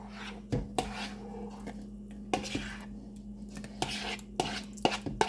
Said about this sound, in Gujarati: હવે તેને આપણે હલાવી દઈએ.